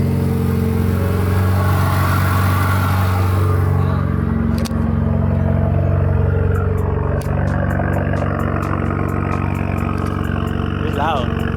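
A Cadillac ATS 2.0 LTG with a catted downpipe and straight-pipe exhaust drives along, its loud, steady engine drone rising and falling with throttle as people talk over it.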